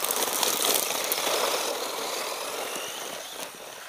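PXtoys Piranha 9200 1:12 scale 4WD RC car with a 540 brushed motor driving, giving a steady high-pitched electric whine with gravel-like scrabbling that fades slightly toward the end.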